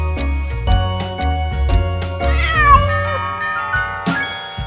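A cartoon cat meows several times in a nursery-rhyme animation, its voice loud and close with rising and falling cries over a steady backing of children's music and a ticking clock rhythm.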